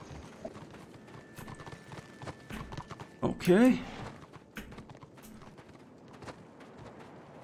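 Horse hooves clip-clop in the online fantasy game Warhammer Online, a moderately loud run of quick, irregular steps under players talking over voice chat.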